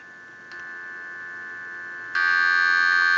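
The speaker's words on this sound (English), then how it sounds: "dial tone," A steady electronic dial tone from a lineman's buttset hums continuously, growing noticeably louder partway through, with no voices.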